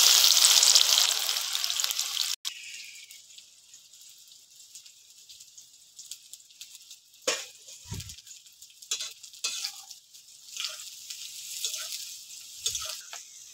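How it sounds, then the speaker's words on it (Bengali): Onions hit hot oil in a pan for biryani beresta, giving a loud sizzling hiss that drops to a quieter, steady fry, broken by a few clatters and stirring knocks. "বেরেস্তা বানাতে হবে, তার জন্য তেল দিয়ে দিব। এবার পেঁয়াজ গুলা দিয়ে দিব।"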